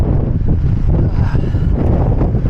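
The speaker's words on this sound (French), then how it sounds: "C'est quoi ce vent de malade?" Strong wind roars steadily and loudly across the microphone near the summit of a mountain road in the Gorges de Galamus, a continuous buffeting rush with no break.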